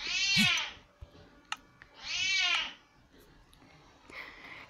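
Two drawn-out cat meows, close and fairly loud, with quiet pauses between them and a faint higher mew near the end; background sounds of a village scene from a game play softly underneath.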